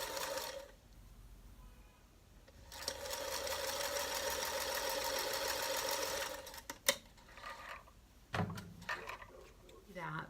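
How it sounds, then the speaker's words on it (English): A sewing machine runs in a steady whirring burst as it stitches quilt pieces together, with quieter handling clicks and bumps before and after, close by. "So I'm actually going to sew this on the machine."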